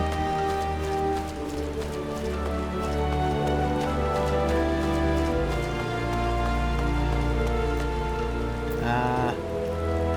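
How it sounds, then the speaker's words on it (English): Steady rain falling in Gridania, a forest city in a fantasy role-playing video game, forms a continuous wash of patter beneath layered sustained music tones, with a brief rising chime near the end. "Oh, it's raining!"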